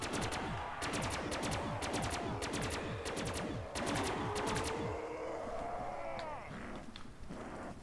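Rapid automatic gunfire in Black Ops 3 Zombies on The Giant map, with several fast bursts of shots followed by quieter weapon handling and game sounds.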